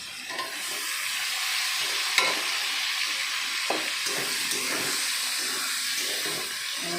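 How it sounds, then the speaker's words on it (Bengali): A tomato mixture fries in a pan with a steady sizzling hiss while a spoon stirs it, its scraping strokes and soft clinks breaking through the continuous frying noise. "একসঙ্গে সব নাড়াচাড়া করে নিচ্ছি"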